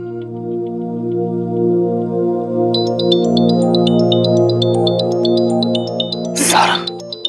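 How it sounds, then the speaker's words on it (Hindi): A phone ringing during a call, a repeating electronic ringtone melody that starts partway in over a sustained musical backing, loud and close, ending with a brief bright burst. "वीर को फोन करती।"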